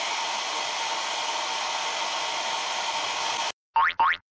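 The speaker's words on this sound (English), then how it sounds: "you can speed things up by using a quick blast of a hairdryer between each layer" A hairdryer blows steadily on a painted miniature model for several seconds, a loud continuous whoosh that cuts off abruptly, followed by two short rising electronic tones.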